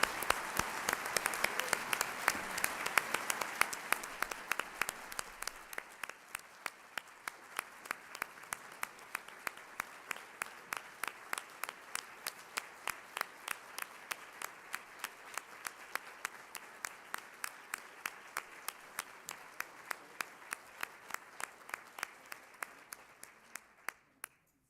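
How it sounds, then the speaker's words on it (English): An audience at a Rotary Club ethics awards ceremony applauds students, starting as a full, dense round of clapping that thins after a few seconds into a few steady, rhythmic claps continuing to the end. "Let's give these students a warm round of applause."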